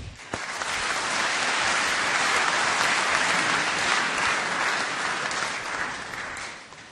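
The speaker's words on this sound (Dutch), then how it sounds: "Dan nu graag een heel hartelijk applaus." Warm, sustained applause from a lecture audience in a Dutch hall, dense clapping swelling quickly to a steady roar and holding before easing off at the end.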